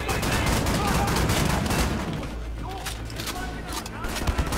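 Rapid automatic gunfire in Wolfenstein: The New Order, a dense rattling burst for the first couple of seconds that thins into scattered shots and mechanical clicks.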